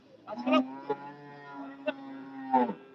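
A few cattle moo nearby at a cattle market, long low calls, with short sharp knocks or voices breaking in between.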